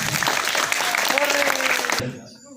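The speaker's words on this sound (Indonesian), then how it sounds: "tepuk tangan untuk teman-teman yang di depan" Students at a school student-council debate clapping together, a dense crowd of applause with a voice over it, ending abruptly after about two seconds.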